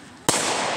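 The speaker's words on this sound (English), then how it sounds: "See the fireworks, guys?" A single sharp New Year firework burst goes off after a brief lull, followed by a loud, sustained crackling hiss that carries on to the end.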